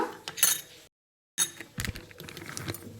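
A spoon clinks and scrapes in a small bowl as salt is stirred into a homemade hair-removal paste, with quick, close, light taps and rattles broken by a brief silent gap.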